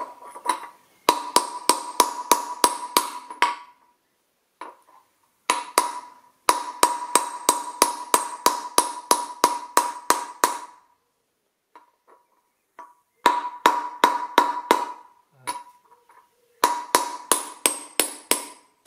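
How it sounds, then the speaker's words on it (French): Rapid bursts of sharp metallic taps from a 30 mm socket driving a part in flush, edge to edge, the strikes coming in quick rhythmic runs separated by short pauses, close and fairly loud with no talking. "tu prends une douille de 30, bord à bord, et tu tapotes"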